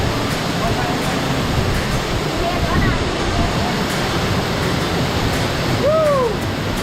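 Dense, roaring rush of a waterfall at Phu Wiang, steady and loud throughout, with a faint voice briefly rising above the constant water noise.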